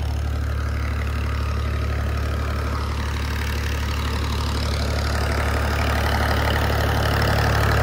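A tractor engine drives a tubewell water pump in a village, running steadily close by with a constant mid-low drone and a faint knocking pulse.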